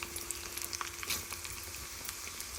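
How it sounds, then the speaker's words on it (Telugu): Chana dal, urad dal, mustard seeds, cumin, asafoetida and dried chillies tempering in hot oil, a soft continuous sizzle with small irregular pops and crackles, heard close and alone. "ఆయిల్ పెట్టుకుని శనగపప్పు, మినప్పప్పు, ఆవాలు, జీలకర్ర, ఇంగువ అన్నీ వేసుకుని మిరపకాయలు అన్నీ వేసుకుని తాలింపు వేసుకోవాలండి."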